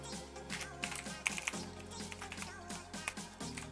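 Keys clatter in a steady run of close, light taps on a computer keyboard during a penetration-testing session, with a faint low hum underneath and no talk.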